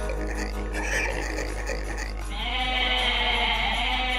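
A goat bleats in the Age of Mythology video game. After a couple of seconds of soft game ambience, a loud, drawn-out nasal bleat rises and holds to the end.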